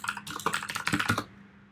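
Quick, close bursts of typing on a computer keyboard, a dense run of key clicks lasting about a second before stopping, with no talking.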